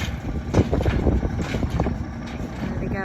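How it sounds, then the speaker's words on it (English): A tractor pulling a baler passes through a hay field in afternoon sunshine, giving a steady, close engine rumble with mechanical clatter, mixed with gusty wind buffeting the microphone. "watching the tractor and the baler go by"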